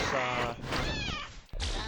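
Cartoonish cat meows and yowls from the fighting video game Abomination Fight Pit Deluxe, loud and continuous with wavering pitch, several cries run together before a brief cut and another burst.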